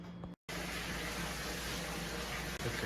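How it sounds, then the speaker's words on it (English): Water pouring steadily into a 55-gallon aquarium tank, a continuous broadband rushing gush after a brief pause at the start, close and constant. "Okay, so now at this point we're just adding water"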